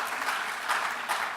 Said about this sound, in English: Let's all give a big round of applause to Manoj and Geeta.